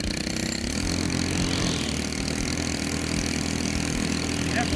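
A STIHL FS91R string trimmer engine idles with a steady, buzzy two-stroke drone, close and loud and unbroken for the whole stretch, with a faint pitch dip partway through and no talking. The trimmer head is faulty and not turning.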